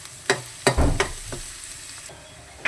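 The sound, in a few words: onion and garlic frying in a pan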